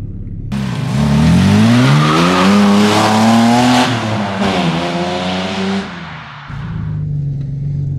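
Ford Falcon with high mileage running just after a cold start, the engine revving up and settling into a loud, rising-and-falling drone before dropping to a steadier idle, close to the microphone with no talk.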